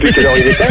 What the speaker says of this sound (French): C'est un cheval? Non, c'est la télévision.